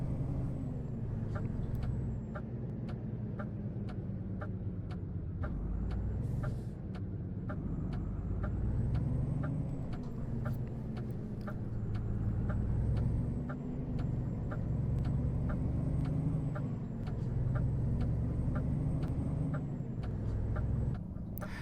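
A truck in the Euro Truck Simulator 2 driving game maneuvers to park, with a steady low diesel engine drone, periodic ticking clicks and a faint high whine throughout, no talking.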